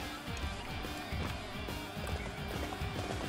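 Horse hooves clip-clop at a run in Dynasty Warriors 6, a steady rapid rhythm of hoofbeats under dense game background noise.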